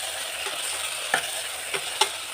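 Tomatoes and fenugreek leaves fry in a pan for a lentil curry, giving a soft, steady sizzle punctuated by three sharp spoon-stirring scrapes near the end, with no talking.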